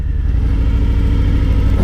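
2018 Harley-Davidson Fat Boy with the optional 114 engine rumbling loud and close in a deep, steady low-pitched throb with a fast pulsing beat.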